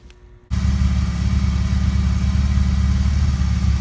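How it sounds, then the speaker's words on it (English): A BMW E36 engine catches abruptly after a brief quiet moment and settles straight into a steady, loud, rumbling idle that holds evenly to the end. "I went ahead and started the engine"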